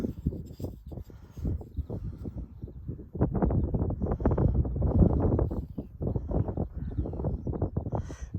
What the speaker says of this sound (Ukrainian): Вітер, страшний вітер.